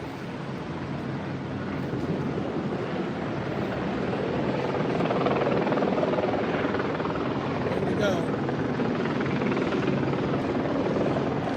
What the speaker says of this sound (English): I don't know if you guys can hear the choppers.